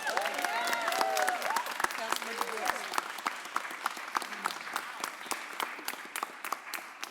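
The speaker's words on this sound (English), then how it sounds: "give Councilmember Brooks a huge round of applause" A crowd at a mayor's press conference gives Councilmember Brooks a huge round of applause, dense sustained clapping from many hands across the whole stretch, with voices murmuring under it early on.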